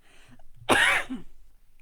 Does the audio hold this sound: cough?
yes